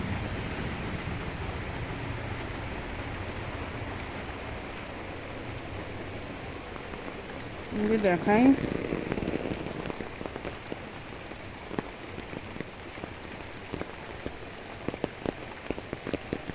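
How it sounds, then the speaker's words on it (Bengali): Steady rain falls on surfaces outdoors in cold, misty weather, a dense continuous patter throughout, with a brief louder swell midway and a few sharper drips toward the end; a voice speaks briefly. "ঠান্ডা, আবার বৃষ্টি পড়ছে।"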